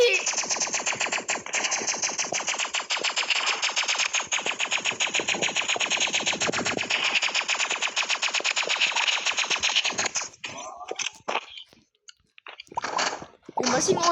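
Rapid video game gunfire rattles in a dense, continuous stream for about ten seconds, loud and close, then breaks into a few scattered short bursts, with a player talking over it at points.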